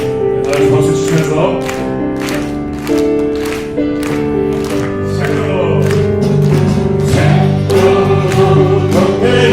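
A church congregation sings a hymn with steady, rhythmic hand claps keeping time through the whole passage, voices and accompaniment loud and continuous.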